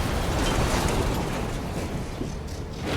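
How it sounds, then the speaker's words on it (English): A cannon blast blowing a gate open in Resident Evil Village, a dense, loud, sustained roar of explosive noise with rumbling debris that lasts throughout, with no voices. "blast the gate open"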